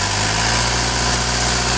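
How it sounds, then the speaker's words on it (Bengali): A parked 12-foot Jac truck sits running, its engine idling in a steady, loud, even drone with a low throb throughout. "দর্শক গাড়িটি কিন্তু স্টার্ট অবস্থায় আছে, দেখতে পাচ্ছেন ইঞ্জিনের সাউন্ড কিন্তু খুব সুন্দর আছে"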